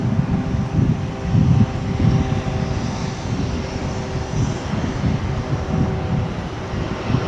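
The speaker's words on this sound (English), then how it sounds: "This was a plane from Detroit, an American plane from Detroit, and it looks like it just didn't land." An American Airlines jet from Detroit goes around at DFW airport instead of landing, its engines giving a steady, moderately distant roar that swells slightly midway.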